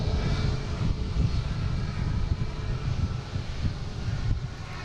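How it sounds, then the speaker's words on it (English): Cape Air commuter plane taking off from runway 9 at Boston Logan International Airport, a steady, broad engine roar with wind buffeting the microphone, continuous and fairly distant throughout. "Looks like the 250 Cape Airs will be taking off on runway 9."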